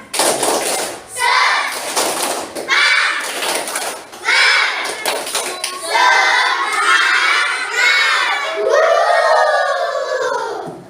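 Fourth-grade children in an Indonesian classroom chant a tepuk semangat spirit clap with their teacher, loud group shouts in repeated bursts and rhythmic claps and thumps, ending in a long drawn-out sung cry.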